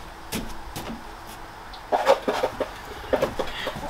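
A chicken clucks close by in a series of short, quiet clucks that come in two small clusters after a stretch of faint background noise.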